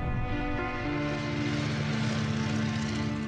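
World War I propeller fighter aircraft flying overhead, a steady loud droning engine hum with layered harmonic tones, continuous throughout with no talking.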